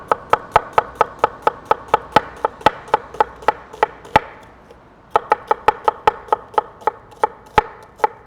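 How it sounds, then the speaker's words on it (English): A knife chops steadily through onions being sliced thin on a cutting board for Oklahoma-style smash burgers, a fast run of sharp, close, evenly spaced thuds with a brief pause midway before the rhythm resumes. "Now we're gonna do thin sliced onions so that we can smash them into the burger"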